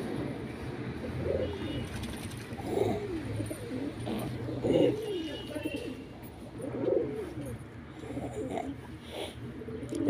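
Several pigeons coo steadily in soft, repeating phrases around a bathing bowl, close by and moderately loud against a low background hum.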